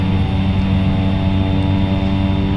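Steady, loud droning of a Cessna Caravan turboprop engine in the X-Plane 11 flight simulator, a constant layered hum with no change in pitch and no talking.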